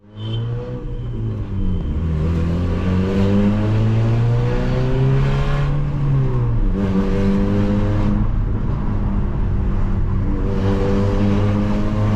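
A 2008 Honda Civic Sport, 140 hp, heard from inside while driving, its engine and exhaust rising and falling in pitch through repeated revs and gear changes, loud and steady with no talking.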